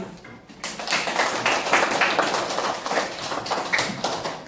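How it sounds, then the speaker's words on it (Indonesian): Schoolchildren in a classroom clap their hands together, a dense patter of many small claps that swells quickly and carries on steadily at a modest distance. "Kalau paham tepuk tangan."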